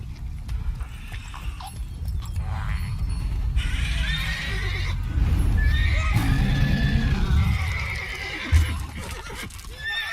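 Roach, Geralt's horse in The Witcher 3, gives loud, drawn-out neighs and whinnies close by, with hooves clip-clopping and shuffling underneath.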